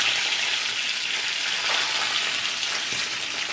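Mustard seeds splutter and crackle in hot oil as curry leaves go in, a steady close dense sizzle with no pause, for a Kerala horse gram dish.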